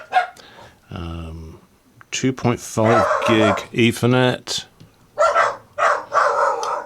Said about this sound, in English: some horses went past and set the dogs off